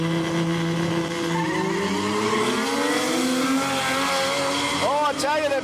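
Drag race launch of a Nissan V6-powered Datsun and a left-hand-drive, Toyota six-cylinder-powered Fox body Mustang at an Australian quick street event, loud engines revving and climbing in pitch with tyre noise, a commentator talking over them.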